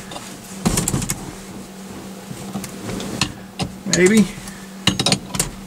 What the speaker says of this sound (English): we're going to see if we can pop this wheel off